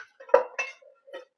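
A few quick metallic clanks and knocks, like a wok being set down and shifted on a stove, close and brief.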